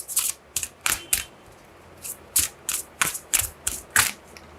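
Tarot cards being shuffled, a run of about a dozen crisp papery riffles and slaps in quick irregular bursts, close and fairly loud with no voice.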